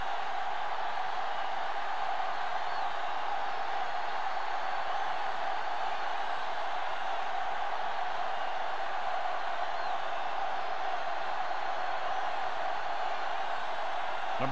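Steady roar of a large stadium crowd in the football video game Madden 07, Colts versus Cowboys in Super Bowl V, a dense continuous wash of cheering held at an even level throughout.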